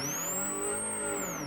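A Subaru World Rally Team rally car from the 2006 WRC season pulls away after stalling, its engine revving loud and steady and rising in pitch as it moves off, with no talk over it.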